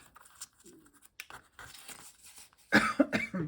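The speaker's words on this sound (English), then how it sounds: "some morning coughing here." A person's morning coughing: a short throat-clearing burst, then a loud cluster of close, harsh coughs near the end, with quieter rustling before it.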